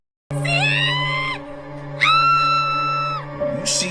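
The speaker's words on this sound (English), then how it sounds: "I didn't mean to scream" A woman lets out two long, loud, shrill screams of fright, separated by a short gap, over a steady low background hum, with a brief noisy burst at the end.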